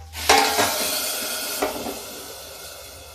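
Hot tadka with Kashmiri chilli poured into a yogurt raita, hitting with a sharp burst of sizzling that flares again briefly and then settles into a fading hiss, close and clear with no talk.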